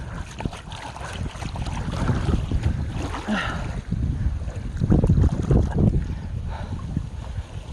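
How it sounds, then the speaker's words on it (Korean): Strong, typhoon-like wind gusts across a carp fishing spot, buffeting the microphone with a steady low roar that swells louder in surges toward the middle and end, alongside faint water sounds and no speech. "바람이 진짜 너무 많이 부네요"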